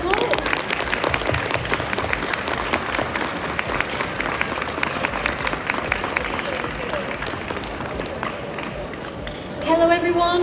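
A crowd at the London International Horse Show 2023 gives a loud, sustained round of applause, dense clapping filling the whole stretch before it fades near the end.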